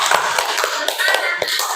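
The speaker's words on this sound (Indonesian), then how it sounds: "kita kasih aplaus dulu" A classroom of students clapping for the first group after a presentation, a short burst of scattered, uneven hand claps with some murmuring voices mixed in.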